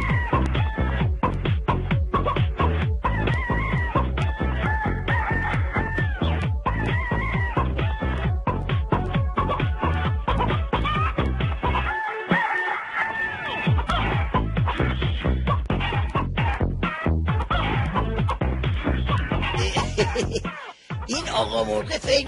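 A rooster and hens cluck and cackle in a dense, loud, continuous stream of rhythmic calls, with a brief pause midway and another dropout near the end.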